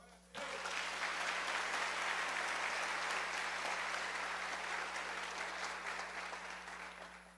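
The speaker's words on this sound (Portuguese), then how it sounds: "Pode aplaudir." A church congregation breaks into applause during a sermon, the clapping starting abruptly and sustaining as a dense, even roar before tapering off gradually, with a faint steady hum underneath.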